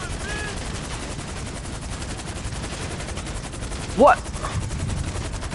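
Rapid automatic gunfire rattles steadily in a GTA Online firefight and continues throughout, with a single voice briefly speaking over it.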